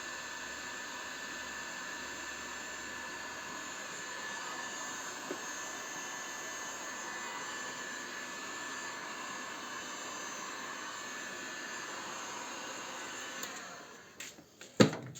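A steady, loud blowing roar runs continuously from a heat gun shrinking heat-shrink tubing during a car suspension bushing replacement, then cuts off and gives way to a few clicks and handling knocks at the end.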